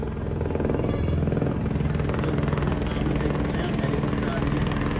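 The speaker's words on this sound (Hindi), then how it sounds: "ये सामने आप देख रहे हैं हेलीकॉप्टर आ चुका है" Helicopter arriving to land at the Phata helipad on the Kedarnath route, a steady, loud rotor thrum and engine whine sustained throughout, with someone talking over it.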